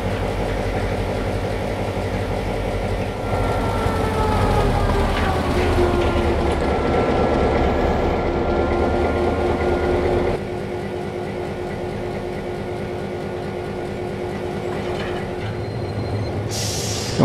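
An Australian train with old carriages runs near Bairnsdale in Trainz 22, giving a continuous loud engine drone with rising whines and rumbles that shift partway through, then settle to a steady hum.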